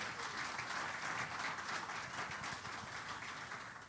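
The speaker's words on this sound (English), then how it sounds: "Round of applause for some current players" A room applauding current players at a Na Fianna club night, steady continuous clapping from a crowd, moderately loud and sustained, gradually tapering at the end.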